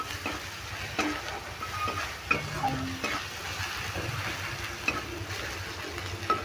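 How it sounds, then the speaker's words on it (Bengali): Tomato frying with tempering spices sizzles steadily and moderately loud while a spoon stirs, knocking and scraping against the pan in irregular strokes. "এবার ফোড়ন দিয়ে টমেটোটা ভালো করে নেড়ে ভেজে নিচ্ছি।"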